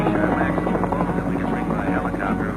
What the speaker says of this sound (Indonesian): Beban paling berat yang dapat diangkut helikopter ialah 800 kg.